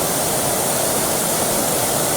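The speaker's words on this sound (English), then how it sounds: "There you go, there's the waterfalls." Carkey Linns waterfall in Northumberland roars as a steady, loud, unbroken rush of falling water, with no voices.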